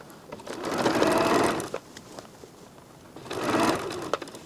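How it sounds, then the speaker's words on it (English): A serger sews a quilt-as-you-go cover in two steady bursts of stitching, with a pause for a tuck between them, close and moderately loud, and no one speaks. "So I'm going to sew into it and then stop and come back out and do a little tuck."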